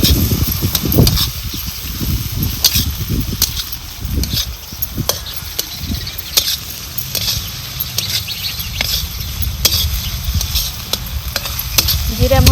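Vegetables with onion sizzle and fry in oil while being stirred, with steady broadband frying hiss and repeated scraping strokes of a utensil in the pan throughout, fairly close.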